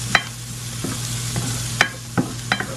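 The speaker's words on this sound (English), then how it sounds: "just give that a good mixture so you can mix in all those seasonings together. Just let that fry up." A seasoned bacon mixture with garlic powder sizzles in a pan while a spoon stirs it, making several sharp scraping clicks over a steady hiss.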